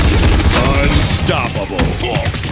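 Gunfire in the Paladins video game, a loud and continuous barrage of rapid shots with thumping impacts that fills the whole short stretch.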